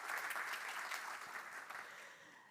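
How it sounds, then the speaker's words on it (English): A conference audience at SEMIC 2024 applauds the panelists, fairly distant and soft, a steady patter of many hands that gradually tapers off. "So please give a round of applause for our panelists."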